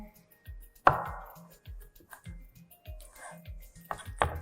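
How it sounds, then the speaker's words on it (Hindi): A knife chops fresh strawberries on a cutting board for a drink, giving a series of soft, evenly spaced thuds with a few sharper knocks in a quiet kitchen. "थोड़ी सी स्ट्रॉबेरी हम कट करके अपने ड्रिंक में भी डालेंगे"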